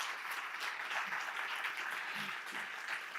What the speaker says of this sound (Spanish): Fortísimo aplauso para ella.